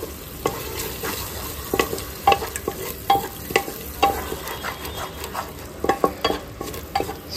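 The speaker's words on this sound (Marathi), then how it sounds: "परत फ्राय करून घेता" A tomato and curd masala paste fries in a pan, a steady close sizzle broken by repeated scraping and stirring knocks in an uneven rhythm, with no talk.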